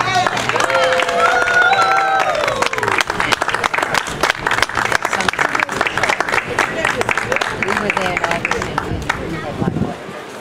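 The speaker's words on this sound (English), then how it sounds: "let's give another round of applause for Jackson, Jace, and Will" An audience claps for a young band at its first gig, a loud, dense burst of applause that thins toward the end, with voices and cheers mixed in.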